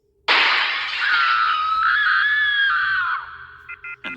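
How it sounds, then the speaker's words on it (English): Glass shatters suddenly in a sharp, loud burst, then a high, sustained scream carries on for about two seconds before dying away into a few short fragments. "the next thing I heard was the sound of glass shattering"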